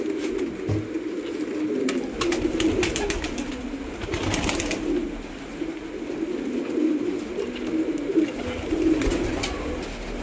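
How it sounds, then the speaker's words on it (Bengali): Pulsar pigeons cooing steadily in a low, rolling murmur that carries on throughout, with a few sharper rustles and taps mixed in and no talking. "এখানে দেখুন পালসার পায়রা আছে"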